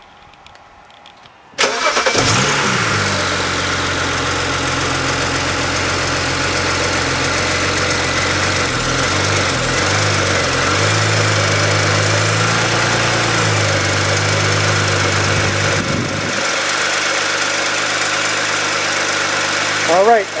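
A BMW E90 engine cranks and fires after a spark plug change, then settles into a steady, loud idle that runs for most of the stretch before dropping off near the end.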